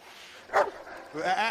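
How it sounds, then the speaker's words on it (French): A dog barks sharply once, then yaps in a short whining burst, heard close in a tense scene from the film I Am Legend. "Ensuite, Sam se met à japper dans la direction qu'elle regarde pour indiquer à la menace que sa prochaine intention est l'agression."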